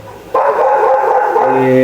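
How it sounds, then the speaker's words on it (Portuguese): A dog indoors breaks into a loud, close, drawn-out bark or howl after a brief quieter moment, and the sustained call carries through to the end. "hoje agora o Charles resolveu latir aqui"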